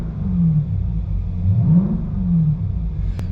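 A 2021 Dodge Durango SRT Hellcat engine revs in short rising and falling swells, a deep close rumble climbing and easing about three times with no talk.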